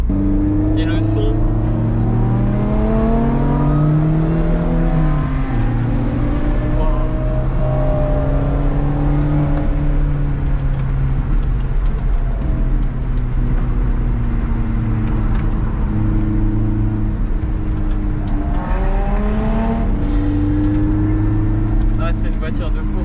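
A Lotus Exige 380 Sport engine drones loudly from inside the car, its revs rising and falling in repeated sweeps during driving over a steady road roar.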